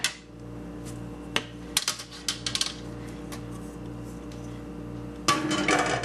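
7 Up biscuits in a metal pan clatter and clink as they are flipped, with a few sharp knocks against the pan over a low steady hum, then a louder clatter at the end.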